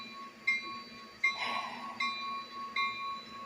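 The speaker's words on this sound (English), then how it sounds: "Here's the train" A train passes at a distance, with faint rhythmic clacks about every three-quarters of a second and a soft whistle-like tone in the middle, and no voices.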